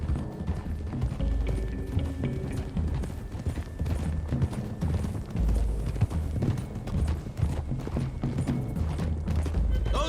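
Several horses ride together in a video game, with continuous overlapping hoofbeats clip-clopping loud and close over a low rumbling backdrop and faint scattered game sounds.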